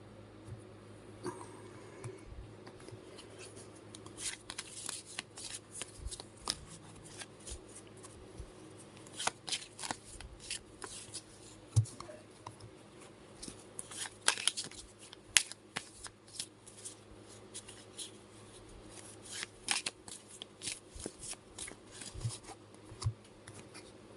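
Tarot cards shuffled by hand in a long run of soft, papery riffles and slaps, steady and close, with uneven bursts and no talk over them.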